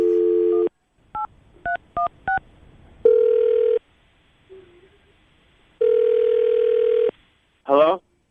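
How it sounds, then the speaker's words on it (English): A telephone call being placed from a morning radio studio: a steady dial tone, then a quick run of touch-tone keypad beeps and long repeated ringback tones, ending in a short burst of voice, all loud and close. "we're going to call him right now, see if we can get him on the phone"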